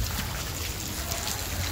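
Heavy rain pours down in a steady, dense wash of hiss and patter that fills the whole stretch, with no voices over it.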